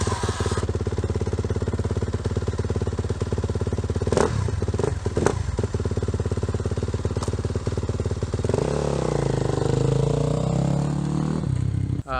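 A dirt bike motorcycle on a track idles with a steady, close, rattling engine note, broken by a few sharp clanks, then revs higher and louder near the end.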